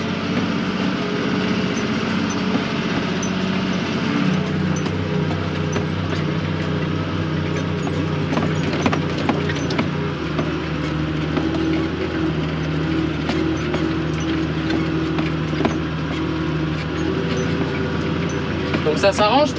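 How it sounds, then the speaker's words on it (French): A four-wheel-drive tractor pulls a stubble cultivator across a field, its engine droning steadily and loud throughout with a rough, continuous mechanical rumble. "On accélère. Le 4 roues motrices et c'est parti."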